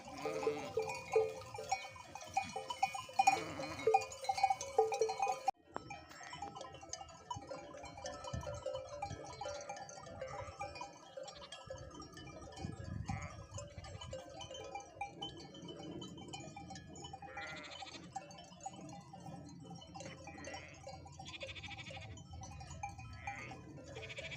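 Sheep bleating repeatedly from a moderate distance on a mountainside, scattered calls over an outdoor background with occasional handling noise.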